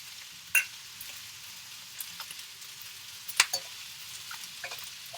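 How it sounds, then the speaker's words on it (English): Tamarind, palm sugar water and fish sauce sizzle in a hot wok, giving a soft, steady hiss broken by scattered ticks and pops, with no one talking. "I'm going to ladle that into the wok"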